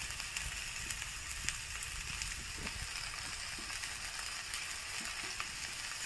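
Salted paneer samosa filling stir-fries in a pan, a constant hissing sizzle with faint stirring knocks beneath it.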